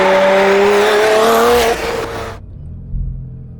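A Porsche 911 991 GT2 RS accelerates hard with a loud, rising engine roar and tire noise, then the sound cuts off abruptly and only a low rumble remains.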